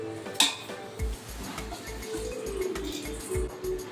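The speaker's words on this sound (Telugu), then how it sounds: "ఇప్పుడు బియ్యం వేస్తున్నాను." Rice poured into a pot of spiced chicken for home-style chicken dum biryani, with a scattering of grains and a few metallic clinks against the pot, close and moderately loud, with no talking.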